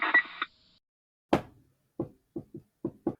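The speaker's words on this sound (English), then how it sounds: "he's either knocking crazily or not barely knocking" Series of knocks, a hard single rap followed by several lighter evenly spaced taps, close and sparse with silence between, after a brief muffled noise at the start.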